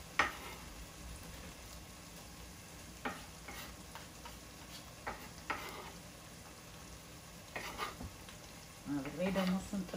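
Garlic and ginger fry in a pan for an Ethiopian chicken stew, with soft stirring scrapes and a low, steady sizzle, then a few brief clinks of utensils near the end.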